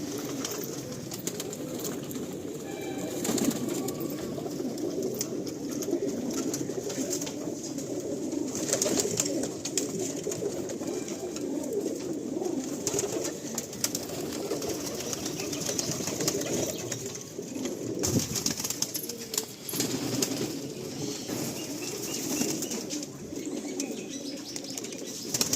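A crowded pigeon loft of breeding pairs fills with constant layered cooing, broken by occasional bursts of wing flapping and scuffling nearby, with no one speaking.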